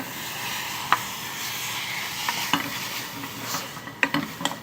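Carrots and other vegetables are stir-fried in a pan, with a steady soft sizzle under repeated scraping and clacking of a utensil against the pan, close by and without talk.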